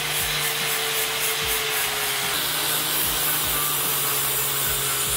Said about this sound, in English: any weld looks pretty after you grind it, right?